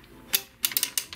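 Toy gumball machine knob turned by hand, giving a short run of sharp mechanical clicks and ratchet ticks, close up and fairly quiet with no talking.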